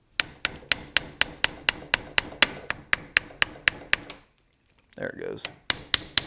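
A Mathews V3 compound bow axle is tapped back through the limb with a quick, even run of about fifteen sharp close-up taps, a brief pause with a short spoken remark, then several more taps.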